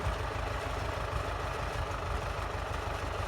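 A 1961 MTZ-50 tractor's diesel engine runs close by at a steady, rumbling idle, throbbing evenly throughout.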